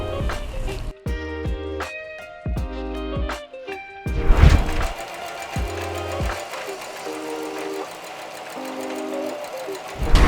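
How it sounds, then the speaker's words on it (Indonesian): A sewing machine runs in short bursts of rapid stitching along the edge of a duffle bag, starting and stopping with soft clunks and fabric handling between runs. "kita akan menjahit bagian pinggirnya ya"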